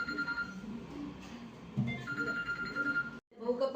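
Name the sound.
phone ringing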